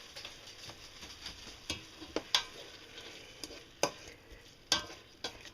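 Bacon cooking in a saucepan for a pasta bake, with a quiet continuous sizzle broken by sharp clinks and scrapes of a utensil stirring against the pan, and no talking.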